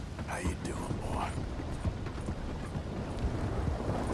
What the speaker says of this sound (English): And we're going with our horse right now.